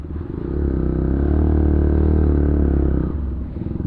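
Motorcycles idle and rumble together at a bikers meet-up, a dense low engine drone swelling louder through the middle and easing off near the end.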